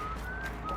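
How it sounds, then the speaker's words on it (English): A character in the video game Horizon Forbidden West whistles a short high, steady tone that rises slightly in the middle, faint and brief against a low ambient background. "He's whistling."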